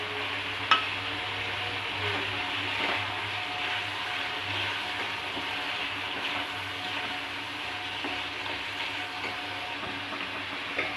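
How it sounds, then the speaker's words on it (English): Green chilies dropped into a pan of prawns frying in oil, giving a steady, continuous sizzle with a faint knock near the start. The sizzle holds for the whole stretch with no talking over it. "So now adding few green chilies."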